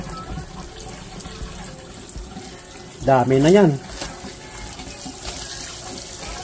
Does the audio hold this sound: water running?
yes